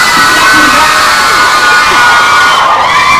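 Loud crowd cheering and applause welcome a new producer at a Thai series launch event, a sustained roar of shouts, whoops and clapping that stays strong from start to finish.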